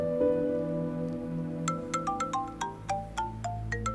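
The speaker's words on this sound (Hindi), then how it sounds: "करीम का फोन है, काम से मुताल्लिक हो सकता है।" A phone ringtone plays a bright chiming melody of quick plucked notes, ringing out clearly over a low background hum.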